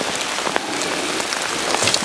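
Heavy rain pours outdoors during a hound hunt for sambar deer, a steady dense hiss of drops on surfaces holding evenly throughout with no voices.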